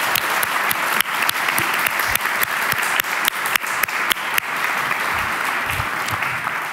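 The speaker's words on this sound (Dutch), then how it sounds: "geef ze een applaus" An audience at an evening youth debate event breaks into loud applause, with crisp individual claps standing out near the front and a dense wash of clapping that holds steady throughout.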